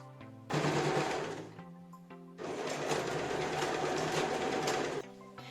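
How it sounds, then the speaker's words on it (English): A sewing machine stitches together fabric side panels of a small animal cube hammock, running in two close, steady bursts with a short pause between them. "Then I took my side panel and sew it together."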